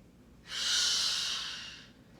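A single long, airy exhale during a yoga practice, close and clear, rising quickly then tapering off over about a second and a half, with no voices over it.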